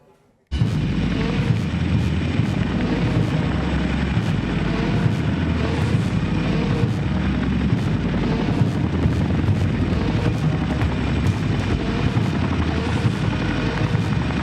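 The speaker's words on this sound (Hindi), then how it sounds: "हिंदुस्तान की सरहद पर चिनूक हेलीकॉप्टर भी अपना दमखम दिखा रहे हैं।" Indian Air Force Chinook heavy-lift helicopter in flight, a loud continuous rotor roar with pulsing low thump that starts abruptly after a brief quiet moment and holds steady.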